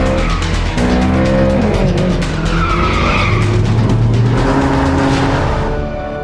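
A Ferrari California slides on a slippery road, its tires squealing in long, loud, wavering skids over the strained engine note, close and continuous for several seconds.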